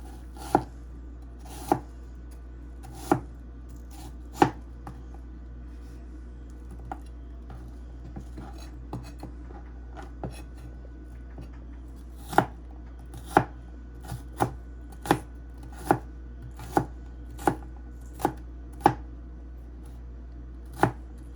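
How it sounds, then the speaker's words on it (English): A knife chopping food into small chunks on a board, sharp isolated knocks spaced about a second apart, pausing midway then resuming in a quicker steady run. "So that's been cut into small chunks, I guess."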